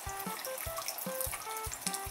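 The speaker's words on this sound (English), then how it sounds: "the water can filter down through the rock, and eventually it can drip right on top of us" Water drips from porous volcanic rock inside a lava tube at Kilauea, a steady series of close, hollow plinks at a quick uneven rhythm, each drop ringing briefly with a soft trickle beneath and no voices.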